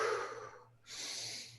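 A voice imitates deep, steady sleep breathing: one slow, airy inhale and exhale, soft and close, with a brief pause between them.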